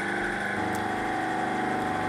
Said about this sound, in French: Je peux faire tourner le moteur pour la première fois.